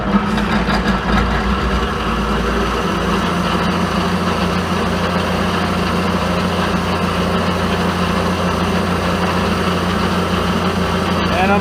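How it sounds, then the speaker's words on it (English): A rotary phase converter hums steadily in a machine shop, a loud, continuous low drone with a pulsing throb that holds unchanged for the whole stretch, while speech is faintly present beneath it. "helps turn the rotary phase converter on, doesn't it?"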